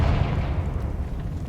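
A Confringo blasting spell in the game Hogwarts Legacy erupts in a low, rumbling explosion that booms up close and decays into a dull roar, with no talking over it.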